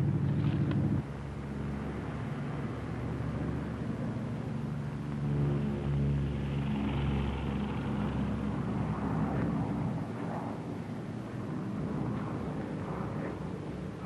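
A P-38 twin-engine fighter flies with one engine quit, a steady droning propeller roar heard from a distance that holds level and rumbling throughout, with no voices.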